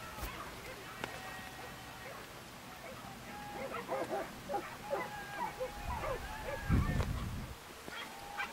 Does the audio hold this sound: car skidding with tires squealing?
no